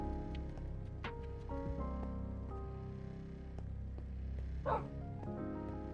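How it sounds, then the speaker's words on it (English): An ethereal wolf dog from the StoneBlock game gives scattered short barks and yips over a constant low game drone, with one louder bark near the end. "I got an ethereal wolf."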